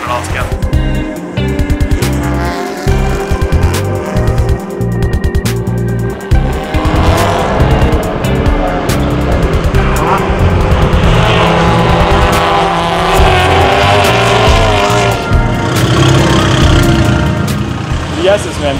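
A Pirelli World Challenge race car at full speed around Circuit of the Americas, its engine loud and close, revving hard through gear changes, with tires squealing at points and a voice talking over it.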